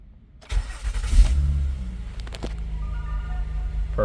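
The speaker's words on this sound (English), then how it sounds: "So let's make sure it starts the car." Car engine cranking and firing up after a key was programmed, followed by a steady close idle with faint background noise.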